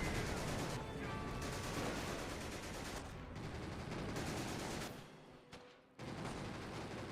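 Heavy mortar shelling in a video game, dense and continuous booming blasts and crackle filling most of the stretch, briefly dropping away near the end before resuming loud.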